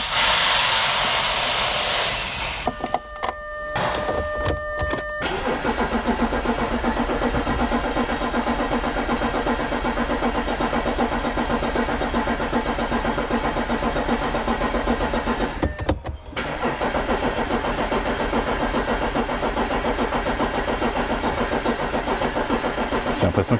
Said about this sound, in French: Elle démarre pas ton Audi.